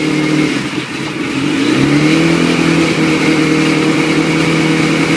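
A motorcycle engine revs steadily through the gears up to sixth, its pitch dropping briefly at a gear change, then holding a loud, even drone.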